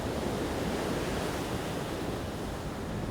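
Big barreling ocean waves break at Puerto Escondido, a loud, steady, close roar of surf and spray with no pauses and no voices.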